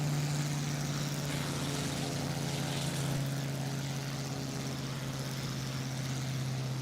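A Bf-108 Taifun's propeller engine drones steadily in Microsoft Flight Simulator as the revs are eased slightly down, a loud continuous hum with a constant low tone, no voices.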